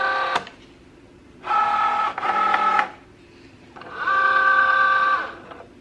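A Cricut Joy cutting machine cuts Smart Vinyl Permanent, giving a few whirring motor bursts with buzzing tonal hum, separated by short pauses and a click, close and clear with no talk.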